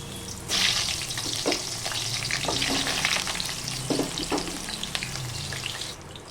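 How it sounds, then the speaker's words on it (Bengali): Pointed gourd (potol) frying in hot mustard oil in a kadai, a steady close sizzle with stirring scrapes and occasional louder crackles throughout. "পটলগুলো লাল লাল করে একটু ভেজে নেব।"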